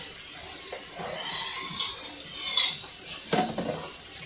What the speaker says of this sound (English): I need to wash these few little dishes up.